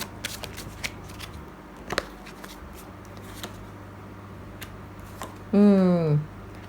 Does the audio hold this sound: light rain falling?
no